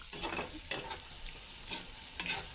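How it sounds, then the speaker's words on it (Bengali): Spice paste fries in oil for a spicy potato curry, a soft close sizzle with a few scraping stirs, quiet and without talk. "তো মশলা এখন ভাজা হয়ে গেছে"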